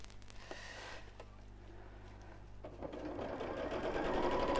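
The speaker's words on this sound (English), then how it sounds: "So as I'm sewing around the top, I'm just making sure that I sew just inside the seam that I've just made" A sewing machine stitches around the top of an insulated lunch bag, running steadily and close by, with its motor hum rising toward the end.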